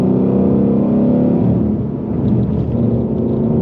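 A Ford Shelby GT350 Mustang with 450 horsepower accelerates hard, its engine a loud continuous deep roar and rumble heard from inside the car, with no talking.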